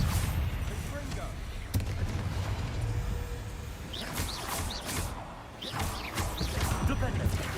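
Spell impacts from a Hogwarts Legacy fight, including the Confringo blasting curse, land as sharp crashing blasts and whooshes at irregular intervals over a rumbling game backdrop, with speech present.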